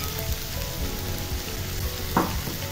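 Potatoes fry in spiced masala with a steady, close sizzle and soft spoon scrapes, one louder clatter of a utensil against the pan near the end.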